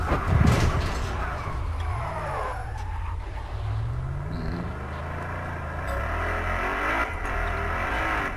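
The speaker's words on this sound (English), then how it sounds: "I'm gonna hop in a cop car." A police car engine revs and accelerates in Battlefield Hardline, its rising and falling tone loud and close, with tire skids and brief speech-like sounds mixed in over continuous game noise.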